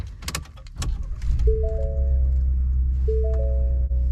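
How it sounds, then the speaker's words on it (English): A 2022 Ford F-150 Tremor: key and cabin clicks and rattles, then the engine cranks and catches into a steady, loud low idle rumble, with a few faint warning chimes over it. "this is what the key looks like, so let's go ahead and start it up"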